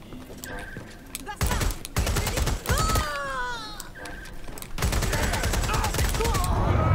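Bursts of heavy machine gun fire in Watch Dogs Legion, loud and close, broken by short gaps, with other game sounds and a voice over the shooting.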